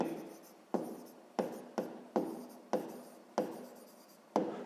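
Handwriting on paper during a sixth-grade math exercise, a series of about eight close, distinct scratchy strokes in an even rhythm, each starting sharply and fading, with no talk over them.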